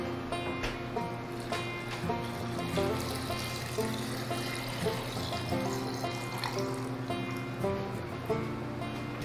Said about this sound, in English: now we're gonna top off each jar with clean water that's come out of our Berkey